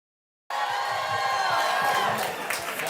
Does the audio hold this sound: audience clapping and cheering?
yes